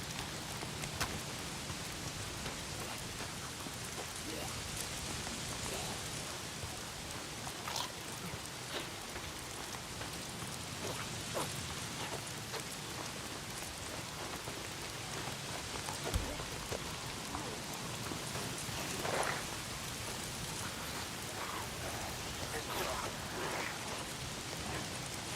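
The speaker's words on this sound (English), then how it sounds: "If it's not the freaks, it's the goddamn rain. Why is it always raining?" Steady rainfall in the video game Days Gone, a dense, even patter of drops on surfaces with occasional louder splats, continuous and fairly soft, with no talking.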